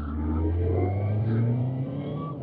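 A Honda CBF motorcycle engine running steadily while riding, with a low continuous drone and some wind noise, close and constant.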